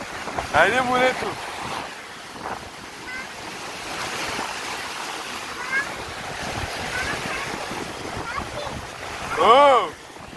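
Sea waves wash onto the shore amid gusty wind noise, a continuous surf hiss that swells near the end, with excited voices calling out over it.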